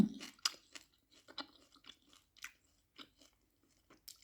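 Fried grasshoppers are chewed close to the mic in a quiet room, with a series of crisp crunches and bites at an irregular, unhurried rhythm.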